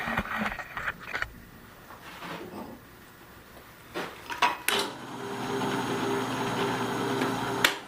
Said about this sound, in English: now we'll drill our holes